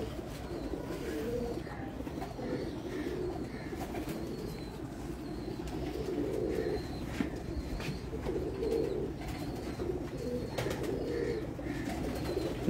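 Pigeons coo in soft, repeated low calls over a steady outdoor background, with occasional chirps from other birds throughout.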